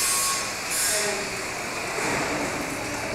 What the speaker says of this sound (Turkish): Evet, burası Milano'nun metro.